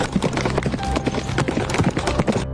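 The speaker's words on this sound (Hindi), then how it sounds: "फिर बिरजू अपने घोड़े पर बैठकर वहाँ से निकल जाता है।" Horse hooves clip-clopping in a quick, regular rhythm as a rider departs, close and clear for a few seconds with no speech.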